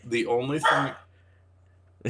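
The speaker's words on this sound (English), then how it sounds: "dog, shut up" A dog barks a few times in quick succession, close and fairly loud, with a person talking over it, then near silence followed by one more short sound at the end.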